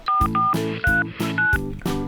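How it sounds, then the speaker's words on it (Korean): A phone dials out in a series of about seven loud, close touch-tone beeps in an uneven rhythm, with no talking over them. "그래 선이야 전화해봐"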